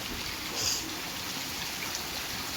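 Heavy rain pours steadily in a village in Tamil Nadu, a dense, even hiss of drops on surfaces throughout, close and unbroken, with no talk.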